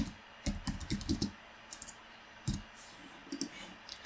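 Clicky computer keyboard typing in quick bursts of keystrokes with short pauses, close and alone in a quiet room, no voices.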